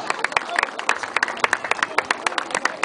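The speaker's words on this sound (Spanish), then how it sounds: "¡Fuerte los aplausos!" An audience at an award ceremony, where a first-place pennant is being presented, claps rapidly and continuously close by, with voices heard through the clapping.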